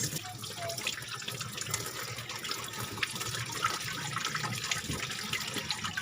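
Tamban fish being rinsed in water, with a continuous splashing, running-water wash that stays at a fairly even level for the whole stretch, close by and without any voices.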